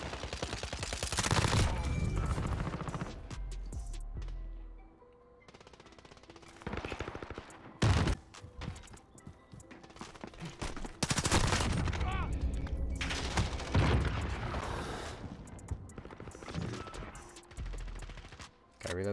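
Video game gunfire comes in several long automatic bursts of rapid shots, loud and close, split by short pauses, with a player talking over parts of it.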